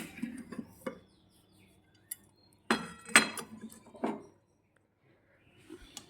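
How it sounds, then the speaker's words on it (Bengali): A lid lifted off a cooking pot of Bengali ol chingri dalna, a yam and prawn curry, gives a few sharp close metallic clinks and clatters separated by quiet pauses. "এ দেখো ঢাকনা খুলে তোমাদেরকে আবার দেখাচ্ছি।"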